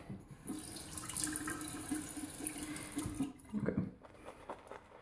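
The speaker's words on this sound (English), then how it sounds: "we're going to add about 1 more teaspoon of water to this" Water trickles and splashes as about a teaspoon is added to a Saponificio Varesino Cosmo shaving soap lather with a Simpson brush, a steady close running-water sound with a brief burst of stirring near the end.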